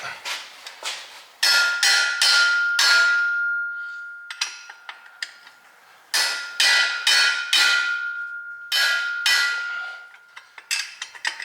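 Sharp metallic hammer blows on bolts of a Mazda Miata in quick bursts of four or five strikes, separated by pauses, with a ringing metallic tone lingering between hits.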